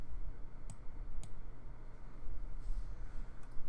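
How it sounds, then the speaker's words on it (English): Computer mouse clicks during software usability testing, two sharp isolated clicks near the start and a few lighter ticks later, over a steady low room hum with no talking. "If you could try clicking that, I think you just clicked and dragged."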